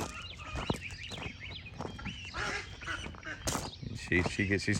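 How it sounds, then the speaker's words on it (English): A duck quacks in a backyard garden with a short run of honking calls, mixed in with nearby people talking. "Leave the duck alone."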